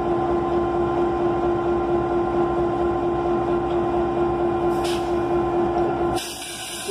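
Hi Hood diesel locomotive NC&St.L 710 idling and rumbling steadily on track with a constant low engine drone, close by and loud, easing off slightly near the end.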